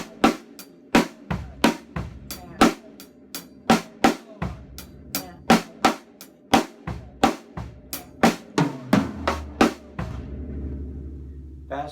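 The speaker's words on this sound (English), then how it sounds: "funk type groove, and I'm using the accents on the snare" Slow funk drum groove on a kit with accented snare hits, a steady pattern of sharp strikes roughly every half second, clear and close, ending in a brief ringing decay.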